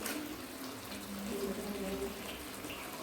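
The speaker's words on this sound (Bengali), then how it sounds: "এভাবে এক করে আমি সবগুলো রুটিকে ধুয়ে নিচ্ছি" Tap water runs steadily while rotis are rinsed one by one, a constant close splashing hiss with a faint low hum underneath.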